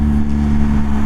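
A deep, steady BMW motorcycle engine with an aftermarket exhaust can idles with a throaty, rumbling exhaust note, continuous and close throughout.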